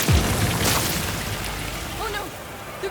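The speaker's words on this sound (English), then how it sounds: "rats ambush you in an equine explosion so horrible" A horse bursts apart in a gory video-game explosion, a loud booming blast at the start that decays into a long, noisy rumbling wash.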